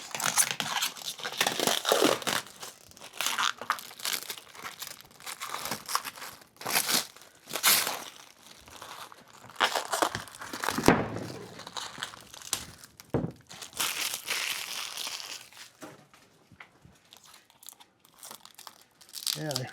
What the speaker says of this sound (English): Unwrap the protection of the tape.